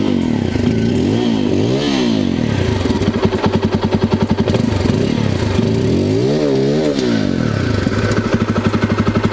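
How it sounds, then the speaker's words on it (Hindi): A Bajaj Pulsar 250 motorcycle exhaust idles loud and close with a deep, thumping pulse, rising in two quick revs that swell and fall back to a throbbing idle. "एग्जॉस्ट का साउंड बहुत ही बेहतर है"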